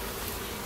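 Wild bees buzz steadily around a hive as it is moved, a dense close drone filling the short moment without any voices.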